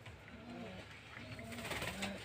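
Pigeons coo softly in short repeated calls while pecking at food in a loft, faint and fairly close against a low hum.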